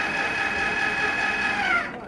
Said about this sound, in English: So this is like kind of dot to dot quilting, so I'm just picking a spot and stopping there.